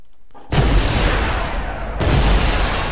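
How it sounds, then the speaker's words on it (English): A rocket launcher blast in the video game Center of Gravity kills the player, a sudden loud boom that cuts in from near silence, followed by a rumbling roar and a second heavy burst. "let's go ahead and see if we can commit suicide by a rocket launcher here"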